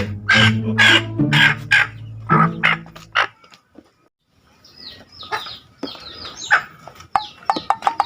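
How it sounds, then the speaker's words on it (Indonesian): A chicken gives several loud, throaty calls in quick succession, then after a short pause lets out scattered, sharper clucks, close to the listener. "saya bawa ayam nih"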